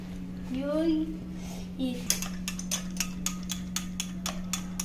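After a brief voice, a spoon stirs chocolate milk in a cup, giving a string of quick, regular, bright clinks against the sides.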